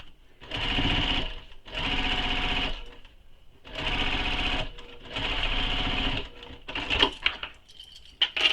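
A sewing machine stitching a quiver sling in four rapid bursts separated by short pauses, followed by a few light clicks and handling sounds.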